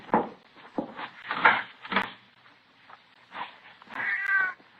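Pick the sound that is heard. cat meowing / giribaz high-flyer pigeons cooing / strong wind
cat meowing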